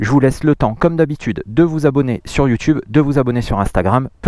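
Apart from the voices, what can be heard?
None of the usual background noises is heard.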